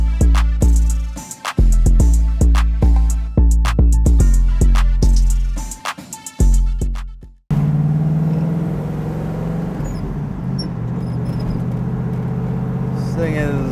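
A 1979 Pontiac Trans Am WS6 with a 400 engine and four-speed gearbox rumbles steadily and loudly once driving starts, after a stretch of sharp, rhythmic music-like pulses.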